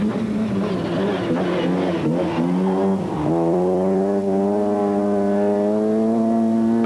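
An Opel Astra rally car drives hard through a stage, its engine droning loud and close with pitch shifting as it changes gear and then climbing steadily under acceleration.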